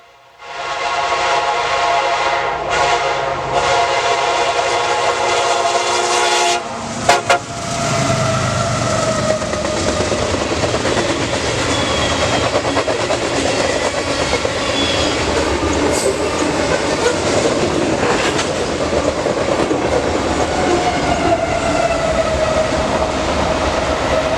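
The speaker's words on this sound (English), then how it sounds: "This is a loaded grainer, and it's flying." A heavy loaded grain freight train rushes past at speed, a loud steady roar of wheels and rolling cars with a brief clatter near the start.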